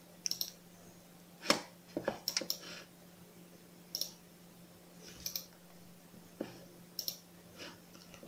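Computer keyboard clicking in a video game: quiet, scattered taps and clacks arriving in small irregular clusters over a faint steady hum.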